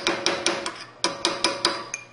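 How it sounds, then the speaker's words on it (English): A chisel is tapped lightly with a hammer to drive a wheel bearing out of a car's rotor hub, making about nine sharp metallic taps in two quick, evenly spaced groups, close and clear with no talk. "just very lightly tap this, pushing your chisel from the outside in as you do this"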